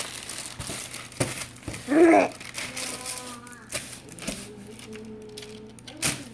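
Parchment paper crinkles and rustles as it is laid down on a baking tray for granola, coming in close, uneven bursts with a louder crackle near the middle.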